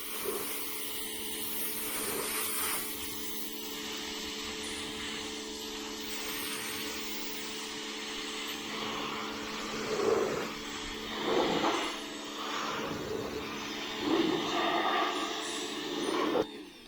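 A pressure washer sprays primer off the body of a 1968 Chevelle Nomad being torn down for restoration, a steady close hiss with louder bursts as the jet strikes metal panels.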